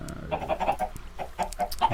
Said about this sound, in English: We have some chickens